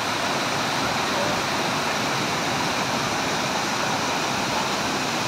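Steady, dense roar of Tubunon Falls in Agusan del Sur: close, loud cascading water hissing continuously throughout, with no clear talk above the rush.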